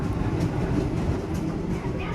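Serayu passenger train running on the rails, a steady loud rumble heard close up with a faint rhythmic clatter throughout.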